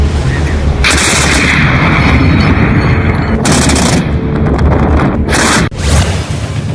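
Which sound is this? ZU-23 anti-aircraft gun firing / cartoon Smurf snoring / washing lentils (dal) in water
ZU-23 anti-aircraft gun firing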